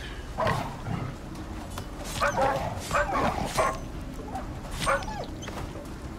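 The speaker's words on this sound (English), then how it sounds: "see another wolf coming" A wolf in the video game Icarus barks and yips several times over a busy background, fairly distant and moderately loud, with a whimpering quality.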